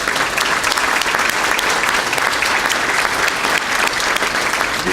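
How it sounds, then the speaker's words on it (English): Loud, dense applause from the crowd at a police department Employee of the Year ceremony honoring Achievement Award recipients, sustained and even throughout. "Let's give our Achievement Award recipients a round of applause."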